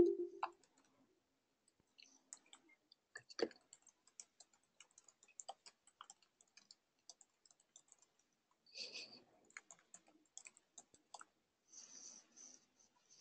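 Sparse, faint keyboard clicks from people typing during an online coaching community-of-practice meeting, arriving in scattered short bursts with quiet gaps and no talk.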